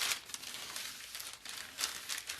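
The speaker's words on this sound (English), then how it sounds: "let's unwrap this boy right now" Plastic packaging crinkles and rustles close up as a Mensur schläger sword is unwrapped, a quiet run of irregular crackling bursts with no voices.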